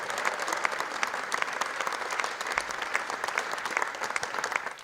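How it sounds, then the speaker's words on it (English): Audience applauding the crew at a corporate event in a convention centre hall, a steady dense wash of clapping across the whole stretch with no talk over it. "So you give all the crew a huge round of applause because they've worked incredibly hard."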